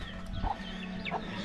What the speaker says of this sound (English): Yeah, and a lot of chickens here as well.